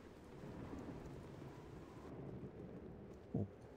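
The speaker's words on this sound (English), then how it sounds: "Oh, it's raining again." Rain and thunder ambience from the Baldur's Gate Enhanced Edition game: steady rain hiss with low thunder rumble, faint overall, ending in a short, sharper burst near the close.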